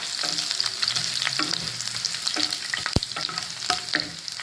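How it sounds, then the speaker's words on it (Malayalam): Chopped shallots frying in hot oil in a pan for a traditional Kerala cucumber pulissery, a steady close sizzle and crackle with scraping stirs and one sharp utensil tap. "ചെറിയ ഉള്ളി അരിഞ്ഞത് നമുക്കതിലേക്ക് ഇടാം."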